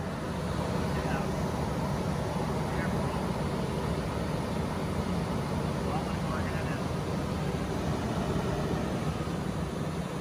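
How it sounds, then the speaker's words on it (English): A steady, loud furnace blower fan in a trailer furnace rushes continuously with a broad, even whoosh and no breaks. "the fan is blowing very loud"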